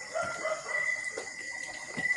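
A chicken crows close by in a short, clear call, with faint clucking and a light ambient hum around it.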